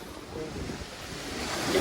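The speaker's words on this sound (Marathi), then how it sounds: "या लाटा बघा." Sea waves at Marine Drive in Mumbai, a steady broadband wash of surf with wind buffeting the microphone, building slightly louder toward the end with no speech.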